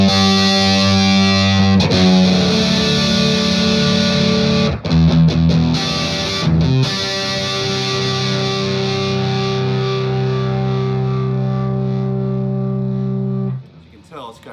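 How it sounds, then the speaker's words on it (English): A 2014 Paul Reed Smith Singlecut Private Stock electric guitar with quilt top and solid cocobolo neck plays through tube amp overdrive without effects, loud sustained distorted chords ringing out with long sustain before fading. "So you can hear with a little overdrive. This is just tubes, not a special,"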